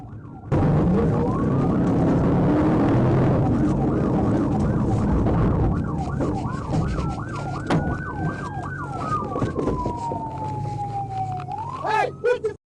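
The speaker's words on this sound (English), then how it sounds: "I activated my siren and informed dispatch I was in pursuit" A police car siren wails during a vehicle pursuit, loud and close, sweeping up and down over engine and road noise, then settling into a steady rising and falling tone before a short burst near the end.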